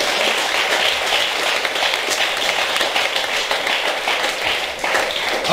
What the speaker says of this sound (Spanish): Alguien, un aplauso a Jesús,